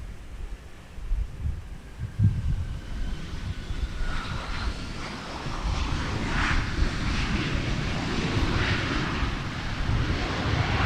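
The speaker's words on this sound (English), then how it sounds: "We got a jungle jet that is outbound for Winnipeg, Manitoba." A regional jet outbound for Winnipeg powers down the runway on takeoff at Minneapolis–St. Paul airport, a broad steady engine roar that swells and holds at moderate distance with wind buffeting the microphone.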